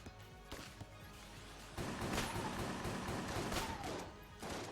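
Gunfire from a sniper rifle in the Enter the Gungeon video game, a burst of loud shots with crashing impacts that run together into dense fire over the back half.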